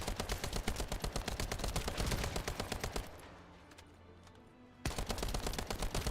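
Heavy-recoil automatic gun in The First Descendant fires long rapid bursts, loud and close, stopping for about two seconds of quieter rumble before another burst resumes.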